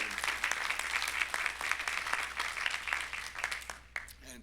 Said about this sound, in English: please join me in giving a round of applause to Tony for 6 years here as Dean